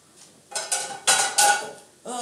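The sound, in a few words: frying pan being handled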